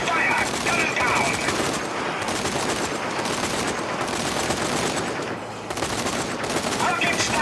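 Sustained heavy gunfire during a firefight in the video game Zombie Army 4: Dead War, a dense, loud, nonstop barrage of overlapping automatic bursts and shots lasting throughout.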